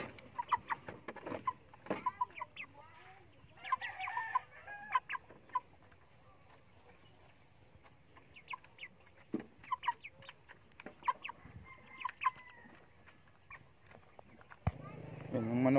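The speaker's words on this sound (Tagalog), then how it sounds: "Manok dito guys." Chickens cluck in short scattered bursts around a rural yard, fairly faint, with light patter and a voice speaking now and then between the calls.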